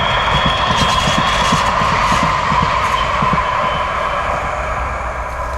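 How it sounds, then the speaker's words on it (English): A tram rumbles past nearby in Wilford with a steady roar and rhythmic wheel clatter over the track joints, fading slightly toward the end. "There's a tram coming just down there"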